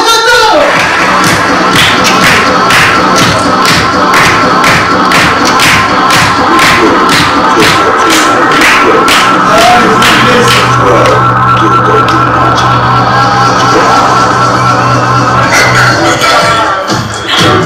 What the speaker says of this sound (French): Un tonnerre d'applaudissements pour Gototo.